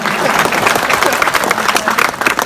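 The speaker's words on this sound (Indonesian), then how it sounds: "Mana tepuk tangan kuat?" Applause from the audience at a large Islamic religious gathering on a polytechnic campus, loud, dense and sustained, with a few voices mixed into the clapping.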